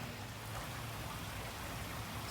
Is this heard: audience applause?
no